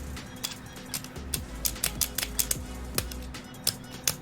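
A keyboard keycap fitted with a stabilizer is pressed and smacked repeatedly, giving a string of sharp, close plastic clicks and clacks at an irregular pace against a quiet background.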